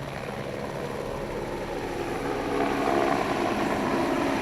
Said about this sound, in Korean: 구조 헬기는 건강 검진에서 통과되지 못한 등반 대원들을 잇따라 실어 나른다.